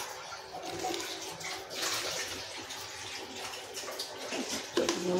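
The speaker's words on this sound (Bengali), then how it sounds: "হাতটা ধুয়ে নেবো ভালো করে।" Tap water runs steadily during handwashing in a home kitchen while cooking country chicken curry, a moderate hissing splash with brief clatters near the end.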